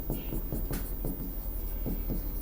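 Pen or chalk writing out a founding year, scratchy strokes repeating in a steady rhythm close by, no voice over them.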